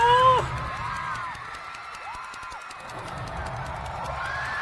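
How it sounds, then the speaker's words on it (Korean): A large crowd cheers and roars at a League of Legends community event celebrating Faker's four-year T1 re-signing, a steady sustained swell of voices with a brief louder burst at the start. "함성 소리가 진짜 소름 돋음"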